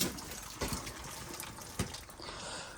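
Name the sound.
water spilling from circulator pump pipe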